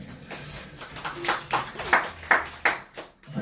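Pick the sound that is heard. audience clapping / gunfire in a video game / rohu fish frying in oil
audience clapping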